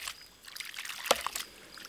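Small homemade ram pump on a mismatched drive pipe, water trickling and splashing with a sharp valve clack in the middle, faint and close with no talk.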